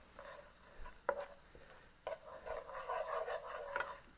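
Flour-thickened sauce cooking down in a pan after sautéed ingredients for a garlic butter oyster spaghetti dish, giving a soft, steady sizzle with a few sharper stirring clicks, close and moderately quiet with no talking.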